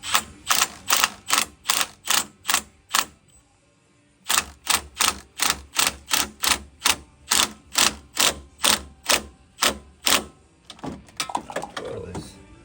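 Ratchet with a wobble extension loosening strut bolts on a 2004 Infiniti G35, heard as rapid, evenly spaced clicking bursts close up, a pause, then another long run of clicks, with a few softer scrapes at the end.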